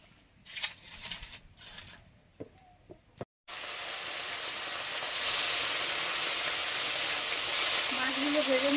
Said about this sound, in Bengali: মাছগুলো ভেজে নিচ্ছি, একটু বেশি তেল দিয়ে, তাড়াতাড়ি হয়ে যাবে।